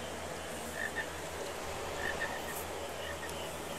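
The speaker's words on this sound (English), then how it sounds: "We found the frogs." Frogs croak in the Final Fantasy IX video game, a few faint chirping croaks scattered over a low steady game ambience, quiet and without talk.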